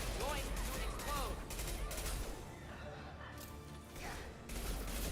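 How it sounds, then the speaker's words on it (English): In Mass Effect 2, a mech fires an impact gun amid a dense, loud game battle mix of bursts of gunfire, mechanical clanks and crashes. "A whole mech. Firing an impact gun."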